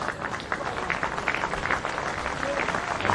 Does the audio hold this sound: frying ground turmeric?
no